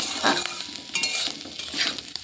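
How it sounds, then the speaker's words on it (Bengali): Snails (guguli) coated in turmeric fry gently over low heat in a pan, a soft steady sizzle broken by a few scraping stirs of a spatula, close and alone without talk. "হালকা আঁচে শুধু জাস্ট নেড়ে চেড়ে একটু ভেজে নেব।"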